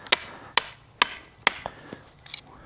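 A Worktuff Wilderness Warrior Gen 2 knife is hammered through wood, giving about six sharp, loud wooden thwacks spaced roughly half a second apart, with no talking.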